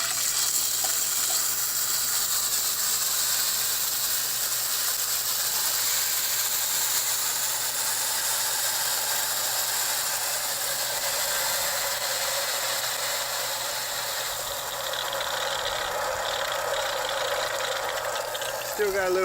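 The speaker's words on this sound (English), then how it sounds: "Just have to purge it a bit, and we have water on the property" A solar-powered shallow well pump pushes air out of its water line, giving a continuous rushing, sputtering flow with a mechanical rattle that holds steady for the whole stretch.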